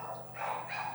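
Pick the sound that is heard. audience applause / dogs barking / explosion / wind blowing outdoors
dogs barking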